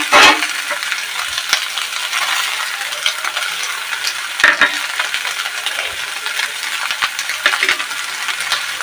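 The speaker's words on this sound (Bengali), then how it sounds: "এটাও ভালো করে আরও কিছুক্ষণ ভেজে নেব।" Soybean and potato curry fries in a pan with ginger cumin paste, a loud, steady hiss and crackle up close, with occasional sharp clinks from stirring and no talking.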